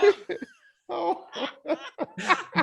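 A man coughs in a few rough bursts close to the microphone during a casual interview, with short gaps between them and a laughing, chuckling quality.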